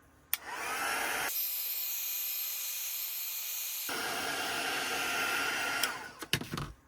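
Steady loud blowing hiss of a heat tool warming a craft Christmas tree, running continuously for several seconds with a brief shift in airflow midway, then cutting off with a few clicks and handling knocks at the end.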